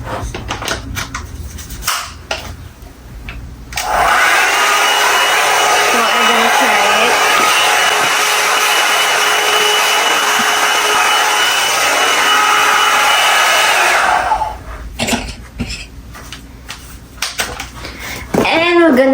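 A hair dryer blows loud and steady for about ten seconds while hair is dried. Before and after it, brush and handling noises rustle and clack, and a person talks.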